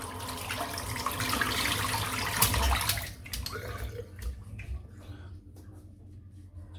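Water runs and splashes as soap is rinsed out of a shaving brush at a sink, a steady loud flow for the first few seconds, then thinner trickles and drips as the flow eases.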